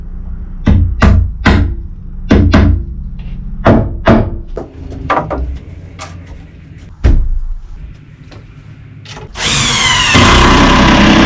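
A power drill drives 3-inch torque screws into log-cabin wood in a series of short, loud whirring bursts separated by pauses, ending with a longer, harsher continuous grinding run.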